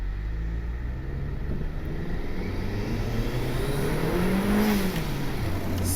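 Turbocharged Honda Civic R18 accelerating on a wet road at part throttle, a steady engine drone rising in pitch through the gears with tyre hiss and road noise, close and continuous, no talk.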